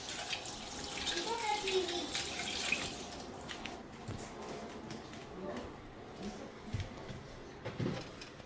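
Tap water runs while a child washes hands at a kitchen sink, a faint steady splashing stream with small drips and clatters and some indistinct voices in the background.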